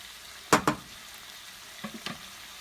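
Chicken fillets cook on a stovetop with a faint background sizzle, broken by a quick pair of utensil clatters and a few softer knocks later on.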